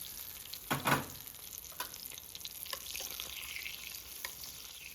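Two green chillies frying in hot oil as a tempering for raita, a soft steady sizzle with a couple of brief louder crackles near the start, close by but fairly quiet, no talking.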